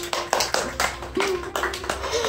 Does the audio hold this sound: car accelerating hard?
no